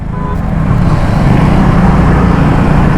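A Triumph motorcycle of about 400 cc arrives with a steady, loud engine rumble that holds evenly throughout, blended with broadband road and traffic noise, with no voices.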